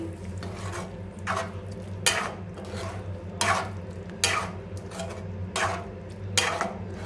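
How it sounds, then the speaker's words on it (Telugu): A spoon scrapes and stirs kaju paneer curry with paneer pieces in a pan, in rhythmic strokes roughly every second over a steady low hum, up close and without talk. "పన్నీర్ పీసెస్ యాడ్ చేసుకున్న తర్వాత మనం మిక్స్ చేసుకోవాలి కర్రీ"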